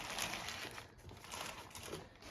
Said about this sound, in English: These are just plastic bags that the packing peanuts came in.